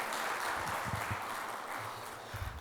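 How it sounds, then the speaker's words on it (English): An audience at a felicitation ceremony applauds a guest of honor, producing steady, fairly faint clapping that fills the short stretch with a soft, even wash. "Let us have a big round of applause for our guest of honor."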